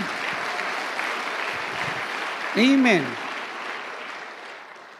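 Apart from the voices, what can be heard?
applause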